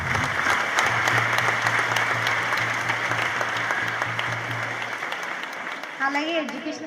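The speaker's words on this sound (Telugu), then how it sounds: "క్లాప్స్ కొట్టండి." Audience applause at a local community event, sustained dense clapping from a crowd at moderate volume, tapering off before a voice begins speaking.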